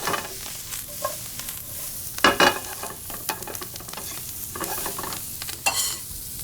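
Shallots sizzling in bacon fat in a pan, a steady close crackle with stirring scrapes and a couple of louder clatters partway through, no voices.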